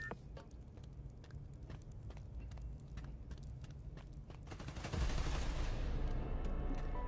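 Gunfire in Marvel's Spider-Man Miles Morales on PS5, heard as a string of rapid distant shots over a low rumble that swells into a louder, denser burst near the end.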